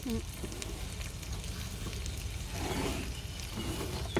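Salicornia frying in butter and oil in a pan as it is stirred, giving a steady, close crackling sizzle that runs throughout with small bursts of spatter.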